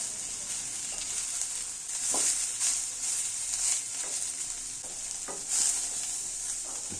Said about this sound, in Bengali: সাদা তেল দিয়ে আমি প্রথমেই সোয়াবিন এবং আলুটা ভেজে নেবো